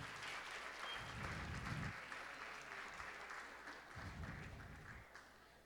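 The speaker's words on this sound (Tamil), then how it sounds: "அவங்க எல்லாருக்கும் ஒரு பெரிய கைத்தட்டல் கொடுக்கலாமே." An audience at a school annual day and graduation ceremony applauds with steady, dense clapping that holds at an even level for the whole stretch before easing slightly at the end.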